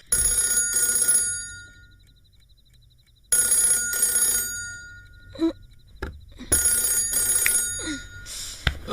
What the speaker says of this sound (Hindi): फोन उठाओ ना। किसका फोन है?